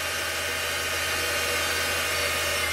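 Sieg SX2.7 milling machine spindle motor runs steadily at high speed, a constant close whine with broadband hiss and no talk.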